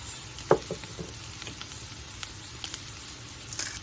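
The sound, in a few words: mushrooms sweating in a pan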